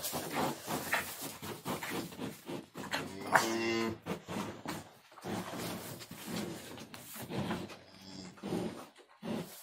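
Cattle moo repeatedly nearby in long, low calls over a busy barnyard background, with no one talking.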